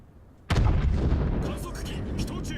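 Battleship rear turret guns firing in World of Warships, a sudden heavy blast followed by a long rumbling decay with scattered crackling debris, loud and close, with someone talking over it.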